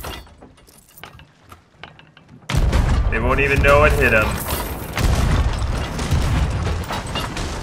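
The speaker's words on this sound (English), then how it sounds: "let's get them with some cannons here" Ship cannons fire in the pirate video game Sea of Thieves, with a sudden loud booming burst followed by sustained rumbling blasts and mechanical clatter, while players talk over the action.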